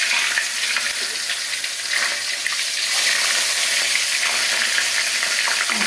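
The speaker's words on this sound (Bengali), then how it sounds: "তেল গরম হয়ে গেছে, আমি মাছটা দিয়ে দেবো।" Large pieces of bele (goby) fish sizzle in hot oil in a home kitchen, a loud, steady crackling hiss that continues without a break across the whole stretch, with no talk over it.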